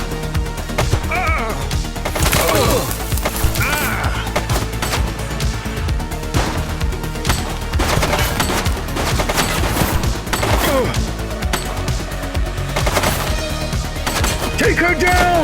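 Rapid, dense gunfire in The Precinct, a police action video game, with bursts of shots running almost continuously at close range over a busy game mix, and brief voice callouts among them.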